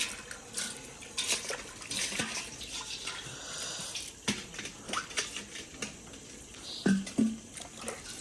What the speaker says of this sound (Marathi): आता बघा 2 मिनिटात कशी आमची भांडी घासून होतील.